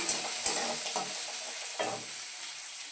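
Onion tempering in hot oil, a close, even sizzle with several short scraping stir strokes across a few seconds, no voices.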